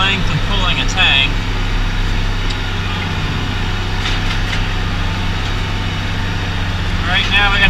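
An IH 1086 tractor engine runs wide open in 4th gear while pulling an anhydrous tank, a loud, steady diesel drone with constant low rumble and a few brief higher whines.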